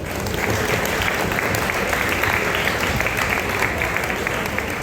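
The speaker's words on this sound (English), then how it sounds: "a round of applause please" Parents in an audience applaud at the launch of a Mumbai cricket team, a dense, steady roar of clapping that stays loud and even from start to finish.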